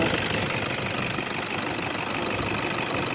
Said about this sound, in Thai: ให้ฟังเสียงการทำงานเครื่องยนต์ไม่มีทำงานเสก